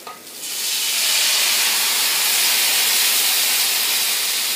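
Green chilies and ginger fry in a pan for tamarind ginger pickle as tamarind water is poured in, and a loud, steady sizzling hiss swells after a brief moment and holds.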